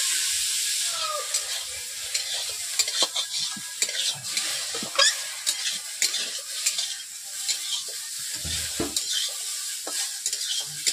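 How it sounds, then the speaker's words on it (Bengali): Okra sizzles and fries steadily in hot oil in a wok, with scraping stirs and occasional clinks of a utensil against the pan throughout. "ঢেঁড়সগুলোকে এখন ভেজে নিচ্ছি"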